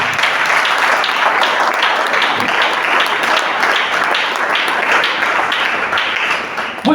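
A church congregation applauds loudly and steadily, a dense wash of many hands clapping close by, sustained without a break and with no talk over it.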